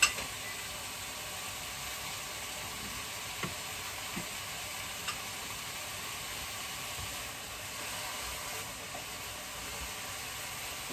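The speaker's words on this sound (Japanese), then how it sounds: "ゴーヤのひき肉炒め作ってます。" Bitter gourd and minced meat stir-fry in a hot pan, a dense, steady sizzle with a few soft scrapes and clicks of the utensil, close and continuous throughout.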